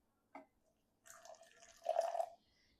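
Hot water is poured from a kettle into a cup for making matcha, a soft trickling pour of about a second and a half that follows a brief faint click, quiet and close.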